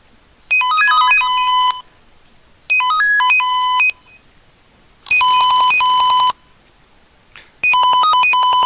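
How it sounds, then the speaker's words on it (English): Bursts of bright electronic beep melodies from team consoles, four separate sequences of rapid high tones, each lasting about a second, separated by short gaps of quiet room hum, fairly loud and close. "what you're hearing is a sequence of tones from each of the team's consoles."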